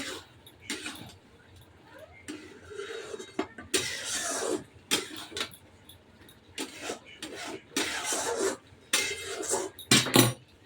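Fried potatoes are tipped into a cooking pan and stirred, giving repeated clattering scrapes and metallic knocks of a utensil against the pan, close and fairly loud in uneven bursts.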